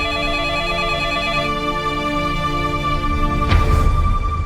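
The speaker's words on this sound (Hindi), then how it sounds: "मिन्नी देखना किसका फोन है।" A telephone ringing indoors in a household scene, a steady electronic ringtone with a sustained, repeating tonal pattern, loud and close, briefly joined by a rustling knock near the end.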